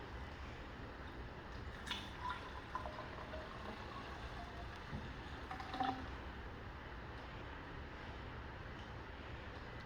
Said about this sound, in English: Now let's pour the rest in.